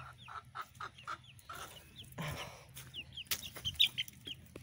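Several chickens cluck nearby in short repeated bursts, with a few higher chirps and some rustling in between.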